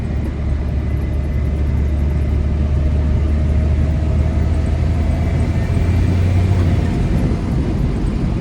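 A first-generation Cummins diesel truck accelerates on a straightaway, a loud, steady low engine and road roar heard from inside the cab with no talk.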